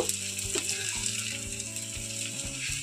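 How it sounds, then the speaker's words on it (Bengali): Fried vegetables are stirred into chowmein in a hot pan, giving a steady sizzle with repeated scraping and clattering strokes of a utensil, plus a faint humming drone underneath; no speech. "চাউমিনের সঙ্গে খুব ভালোভাবে এটা মিশিয়ে নেব"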